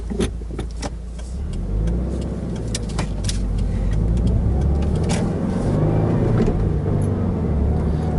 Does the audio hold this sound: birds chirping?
no